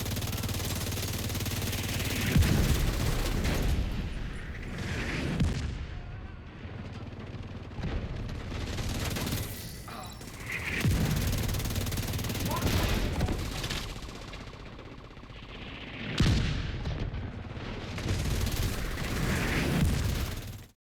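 Marauder rockets and gunfire in The Division 2 arrive as several heavy waves of explosive bursts and rattling shots, rising and falling over a steady rumble, with a voice talking over them.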